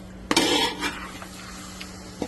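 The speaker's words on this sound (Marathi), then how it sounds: "मसाल्यामध्ये पूर्ण मिक्स करून घेऊया प्रॉन्सला." Prawns stirred into masala in a metal pan, with a spoon scraping and clinking against the pan in a few close, short strokes over a steady low background hum.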